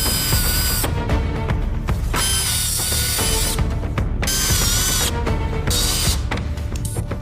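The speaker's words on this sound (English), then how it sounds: "I'll put in a couple more screws." Power drill driving screws into furniture during a dining room makeover, repeated bursts of whirring and ratcheting with brief pauses between them, loud and close with no talk.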